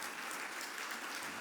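A church congregation at a Sunday worship celebration in Dasmariñas applauds, a steady, dense wash of clapping hands filling the room evenly without a break, with no voices standing out.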